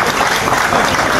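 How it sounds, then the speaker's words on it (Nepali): Steady, dense applause from a crowd at an Indian Independence Day celebration in Dharan, loud and continuous throughout with no pauses. "संपूर्ण जोरदार ताली तो अपेक्षा राखी दो"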